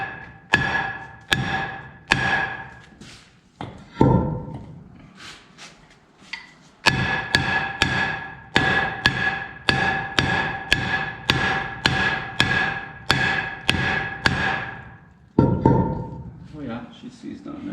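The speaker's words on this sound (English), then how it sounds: "then we need our trusty hammer time because that's going to get seized on there" Sharp metal hammer strikes on a seized wheel hub of a GMC C7500 truck ring out in quick steady series, pausing between bursts, loud and close.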